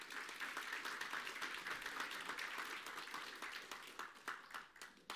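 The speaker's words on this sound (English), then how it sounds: "Let's give the Lord a round of applause today." A church congregation gives a round of applause during a service, many hands clapping in a continuous faint roll with individual claps flickering through, tapering unevenly toward the end.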